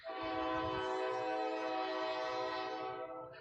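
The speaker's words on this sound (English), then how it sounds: "You don't hear a train this time of night" A Music City Star commuter train passing at night sounds a long, loud, sustained chord horn, rich and steady for about three seconds with low rail rumble beneath, then fading.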